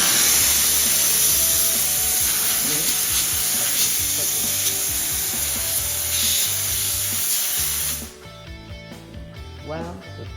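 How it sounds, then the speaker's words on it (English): A 2L desktop steam cleaner's spray gun lets out a loud, continuous hiss of pressurised steam for about eight seconds, then cuts off abruptly, leaving quieter clicks and faint mechanical noises. "you can use the spray gun with touch sensitive button"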